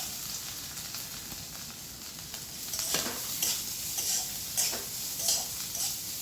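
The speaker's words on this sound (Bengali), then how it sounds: "ওর মধ্যে আমি একটা একটা করে সবজি দিয়ে দিচ্ছি।" Vegetables added one by one to hot oil in a pan sizzle steadily, with a continuous frying hiss and occasional stirring scrapes, close and fairly loud with no talking.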